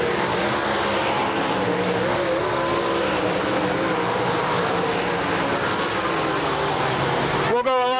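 A sprint race car, number 7, rolls through the pits at a speedway with a loud, steady engine drone filling the whole stretch, and a sharp rev near the end.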